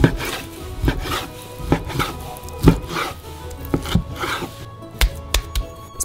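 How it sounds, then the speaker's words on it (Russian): Two small hatchets chop beef and pork into mince on a board, making a run of sharp, close thuds at an uneven, brisk pace, some blows landing in quick pairs, with no talking. "С помощью двух топориков делаем рубленый фарш."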